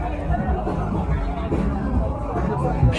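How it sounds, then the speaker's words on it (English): Crowd chatter spilling out of a rock and roll bar in Palermo, Buenos Aires, at night: a continuous babble of many voices nearby, with a few louder voices rising out of the hubbub. "I'm sure you can tell by the crowd pouring out of there"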